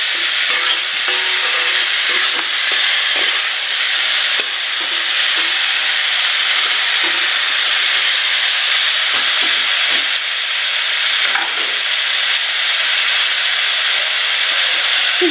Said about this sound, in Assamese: এটা ভাজি থাকিম কম জুইত